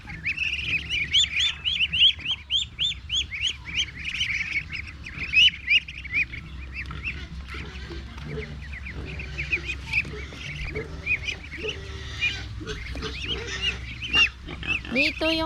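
Farm ducks and chickens in a backyard poultry pen call in a busy, overlapping chorus of quacks and chirping cries, fairly close and continuous, with bursts of louder calling and no talk over it.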